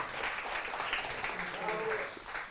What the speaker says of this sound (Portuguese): Palmas para essa roda maravilhosa!